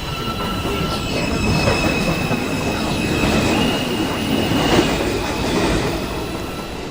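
Manhattan-bound 2 express subway train at Beverly Road station during evening rush hour, rumbling steadily with squealing wheels and rail clatter throughout, loud and continuous with no voices.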